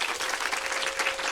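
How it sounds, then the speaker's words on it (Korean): An audience at a winter school orientation bursts into applause, a dense, even wash of many hands clapping together, loud and sustained through the short moment. "다시 제가 안녕하십니까 라고 하면 여러분들 박수 소리 최대한으로 키워 주시면 감사하겠습니다."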